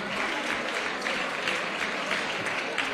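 Steady applause from an audience at a geology olympiad awards ceremony, a dense, continuous clapping that fills the whole stretch with no talk over it.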